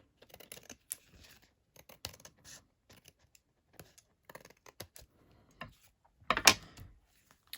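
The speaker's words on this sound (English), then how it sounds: "Snipping off the final bits." Scissors snip through the ends of patterned paper strips laid in a herringbone card panel, a scatter of small, quiet, irregular cuts with one louder snip near the end, no talking.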